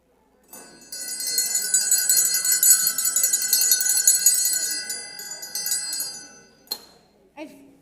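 A small hand bell rings brightly at a ladies' Bible study, a sustained shimmering jingle lasting several seconds before fading, followed by a couple of faint clinks.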